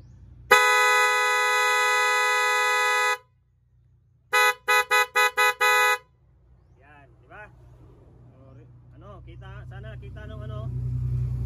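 A loud, steady dual car horn blares for a few seconds, then after a pause gives a burst of short rapid honks; faint talking and engine rumble follow.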